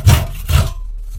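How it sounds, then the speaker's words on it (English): Hand saw cutting through wood while making a traditional wooden plane, two near, rasping strokes at a steady rhythm, then quieter. "So you basically just keep sawing"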